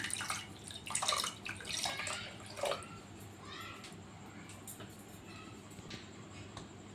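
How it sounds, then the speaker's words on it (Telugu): Water pours into a cooking pot of dal in a few splashy gurgling bursts, loudest early on, then settles into a quiet, faint trickle. "ఇప్పుడు ఇందులో కొంచెం వాటర్ వేసుకుంటాను"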